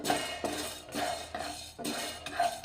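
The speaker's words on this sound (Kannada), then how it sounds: "ಈಗ ನೋಡ್ರಿ ಹೆಸರು ಕಾಳು ಹಾಕಿನಿ, ಸಣ್ಣ ಉರಿ ಇಟ್ಕೊಂಡು ಇದನ್ನ ಫ್ರೈ ಮಾಡ್ಕೋಬೇಕ್ರಿ." Green gram dry-roasted without oil in a pan over a low flame, a utensil scraping and clinking against the pan in regular strokes roughly every half second, fairly close, with no one talking.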